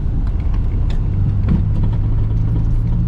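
A 1988 Mazda 323 with a manual gearbox pulls along steadily in third gear, its mid-pitched engine droning continuously and close with a low rumble.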